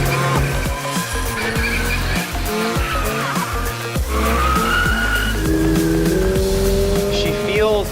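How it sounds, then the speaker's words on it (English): A new Subaru BRZ on sport tires drifts with repeated loud tire squeals and engine surges, sustained screeches riding over the motor throughout. "let's see if we can't drift this thing a little bit"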